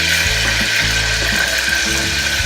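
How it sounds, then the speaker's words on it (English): Chili hits hot oil with mustard seeds while making spicy potato curry, giving a loud, continuous close-up sizzle over a low steady hum. "So in goes the chili"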